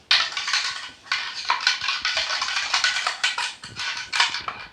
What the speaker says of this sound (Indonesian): Kemudian saya aduk-aduk menggunakan sendok